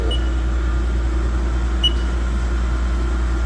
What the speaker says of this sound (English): And I will run this spindle.